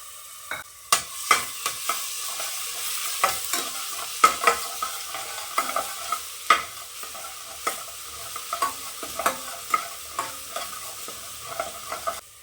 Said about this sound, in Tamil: இதை நம்ம அப்படியே எடுத்து வறுத்துக்கலாம்.